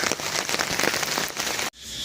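Heavy rain drumming on a surface at a campsite in the evening, a dense close patter that cuts off sharply near the end before continuing more softly.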